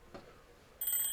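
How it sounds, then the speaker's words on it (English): An alarm clock rings in the video game Monochrome Valentine, a Valentine's visual novel: a quiet lead-in gives way to a sudden, steady electronic ringing that holds bright and loud to the end. "The alarm went off early again."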